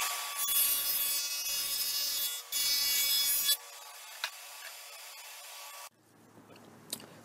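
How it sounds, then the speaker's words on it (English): Wood pieces being cut to form a rabbet, giving several bursts of loud, high rasping cutting noise separated by short pauses, followed by quieter handling sounds and faint clicks. "I'm just going to slide one side of each piece through and cut that rabbet"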